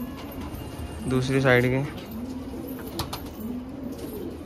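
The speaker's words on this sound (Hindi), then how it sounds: "क्योंकि भाई कबूतर बहुत है हमारे पास हरे दुबाज" Green dobaj pigeons coo in a short rising-and-falling burst near the mic, with someone talking over and around the cooing.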